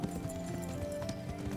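Horse hooves clip-clop steadily and quickly in the Kingdom Come: Deliverance video game, a rapid rhythmic patter heard close against a dense, constant background of game ambience and music.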